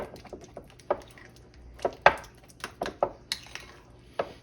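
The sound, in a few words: mixing ham salad with cream cheese in a bowl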